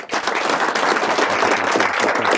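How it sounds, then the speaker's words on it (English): A crowd at a swearing-in ceremony claps to honour someone's military service, giving a dense burst of close applause that holds steady for a couple of seconds. "Please, a round of applause for his military service."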